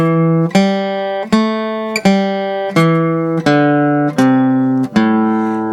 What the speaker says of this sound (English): So the minor pentatonic sounds like this.